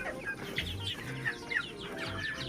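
Free-range chickens kept in an open run cluck in short repeated bursts close by, a busy layered chatter of hens over a steady low background.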